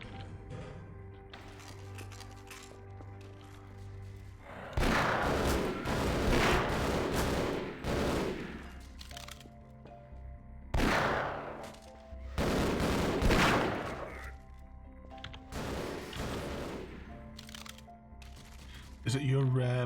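Gunfire in the video game Half-Life, heavy bursts of rapid shots in several loud clusters separated by quieter gaps, with someone talking softly in between.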